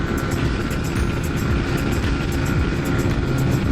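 A Lifan KPR 200 motorcycle engine drones loud and steady in fifth gear at speed, a continuous rough roar mixed with wind rush that holds an even level throughout.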